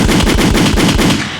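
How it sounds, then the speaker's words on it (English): Rapid burst of loud gunfire, about eight close, evenly spaced shots in quick succession like an automatic weapon, filling the moment before trailing off at the end. "Listeners, brace yourself for gunshots."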